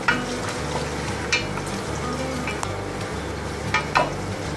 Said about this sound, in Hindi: सबसे पहले हम इसमें प्याज डालेंगे ऑयल में। प्याज को फ्राई करेंगे